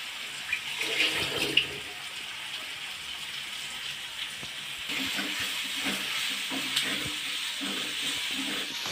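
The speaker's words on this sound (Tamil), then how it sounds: "அது வரைக்கும் நம்ம அந்த ஆனியனை வதக்கி எடுத்துக்கலாம்" Onions sautéing in a pan for kanava (squid) dry roast, giving a steady, soft sizzling hiss with occasional light scraping and clinks of a utensil, close and continuous.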